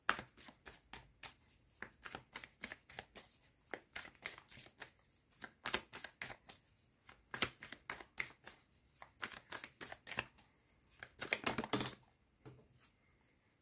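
Tarot cards are shuffled and drawn by hand in a long run of crisp, rapid riffling bursts, close and fairly quiet, with no talking.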